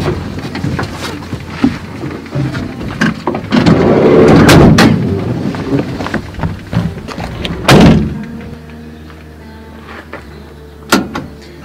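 A broken car door on a hired car slams shut with one loud, close thud after a stretch of rumbling engine and window noise, then the cabin goes quiet with a faint click later.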